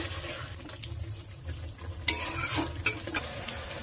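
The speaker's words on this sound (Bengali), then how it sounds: "এবারে ম্যারিনেট করা মাংসটা দিয়ে দেবো। আমার মাংসটা আস্তে আস্তে কষিয়ে নেব আমি" Marinated chicken stir-fried slowly in a pan in a village kitchen, a soft steady sizzle broken by sharp clicks and scrapes of the spoon against the pan, close by and without speech.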